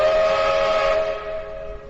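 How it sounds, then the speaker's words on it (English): Steam train whistle sounding a sustained, loud, steady blast that holds for about a second before gradually fading, heard alone with no voices. "And the train keeps going."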